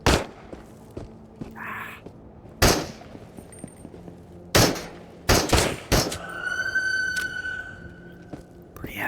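Gunfire in the VR survival shooter Into the Radius, several sharp loud shots spaced irregularly with clicks and handling noises between them, plus a ringing tone near the end.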